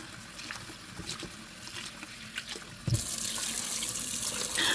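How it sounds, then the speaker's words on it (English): Parboiled rice being washed in water at a sink, running tap water and gentle sloshing close by, growing brighter and louder partway through. "So I've parboiled the rice, then I'm just washing it."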